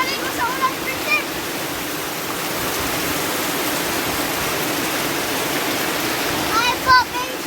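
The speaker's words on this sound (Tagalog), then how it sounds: "Grabe yung lakas ng ulan." Heavy rain pours down in a dense, constant hiss, loud and enveloping, with a few faint bird chirps and small knocks rising above the downpour.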